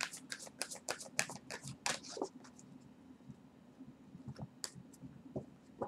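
Angel answer oracle cards are shuffled by hand, a quick run of soft riffling flicks and clicks up close, then a few sparse taps and slides before fading quiet, no talk.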